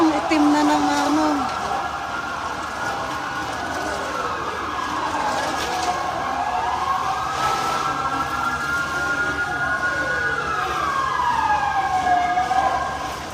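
A fire truck siren wails up and down repeatedly, rising and falling in long sweeps amid street noise at a fire in Malate, Manila, with people talking nearby.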